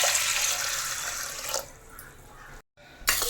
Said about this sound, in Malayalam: ഇനി നമുക്ക് കുറച്ച് വെള്ളം ഒഴിച്ച് കൊടുക്കാം